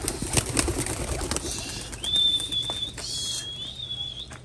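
Several pigeons flap their wings in a loft, a flurry of soft wingbeats in the opening seconds followed by thin, whistling tones that rise and hold, fairly close and moderately loud, with no talking.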